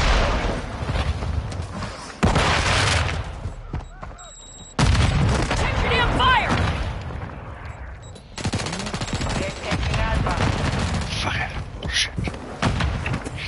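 Gunfire in a shooter video game: dense bursts of rapid automatic shots and heavy booming impacts come in several loud stretches, broken by abrupt cuts, while voices talk over the fighting.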